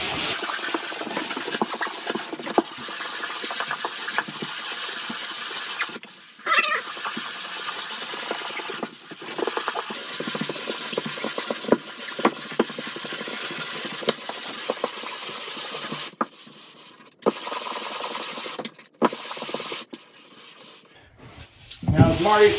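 Drywall joint compound being sanded by hand in a mobile home restoration, a continuous close scratchy hiss that carries on almost without pause, with a few brief breaks near the end.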